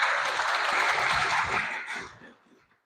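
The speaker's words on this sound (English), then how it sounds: "Please give him a round of applause" An audience at a cohort celebration in Bethnal Green gives a round of applause as the next presenter is invited up, full clapping that holds for a couple of seconds and then fades out.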